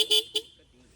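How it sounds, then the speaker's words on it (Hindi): A TVS Apache motorcycle's signature horn gives two short, bright honks, the first slightly longer, followed by quiet background. "अपाची का जो ये सिग्नेचर हॉर्न है"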